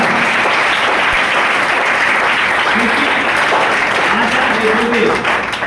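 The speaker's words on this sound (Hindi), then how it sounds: "हमारे पेरेंट्स के लिए यार एक बार दिल से जोरदार ताली होनी चाहिए।" A large audience at a business plan seminar gives loud, sustained applause for parents, dense continuous clapping with some crowd voices mixed in throughout.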